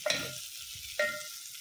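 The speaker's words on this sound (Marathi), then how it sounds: "आता हे परतून घेऊया व्यवस्थित." Field bean pods stir-fried in a pan for a dry Maharashtrian vegetable dish, giving two sharp scraping stirs with a soft sizzle continuing between them, close and moderately quiet.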